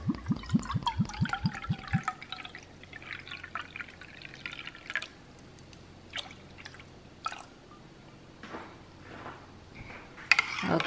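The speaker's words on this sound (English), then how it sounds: "next, we're gonna add 1 cup of apple cider vinegar" Apple cider vinegar pours into a ginger, garlic, lemon and honey drink with a rising gurgle for about two seconds, followed by faint drips and light liquid sounds.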